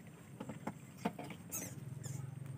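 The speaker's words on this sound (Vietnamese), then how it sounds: "ôi chuột nhiều quá cả nhà" Many small rats or mice caught in traps at night after heavy rain in flooded countryside, scurrying and pattering with faint squeaks, close by and fairly quiet, with no talking.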